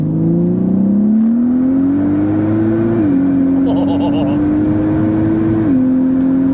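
Turbocharged MK5 Golf R32 with a DSG gearbox accelerating hard, heard from inside as a loud, steadily climbing engine drone broken by quick gear shifts, with people talking over it.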